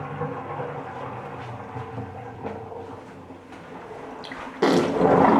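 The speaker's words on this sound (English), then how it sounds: "obviously let the water out" Water gurgles and drains away from a sink after makeup brushes were washed, with a low rushing roar, swelling into a louder gush near the end.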